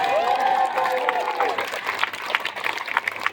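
Audience clapping and cheering during a comedic storytime performance, a crowd applauding with scattered voices and shouts mixed in. A speaking voice sits loudly over the start.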